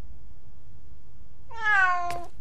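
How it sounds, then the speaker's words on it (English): A cat meows once in Star Ocean: The Last Hope, a short rising-falling meow with clear harmonics arriving after a stretch of quiet game ambience, moderately loud and close, with no talking over it. "That's definitely the cat from before."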